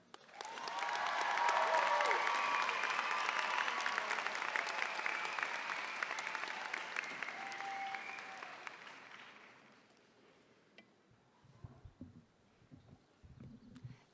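Audience applause welcoming a student speaker at an outdoor law school graduation ceremony, loud and sustained for about nine seconds before fading out, with a few scattered sounds afterward.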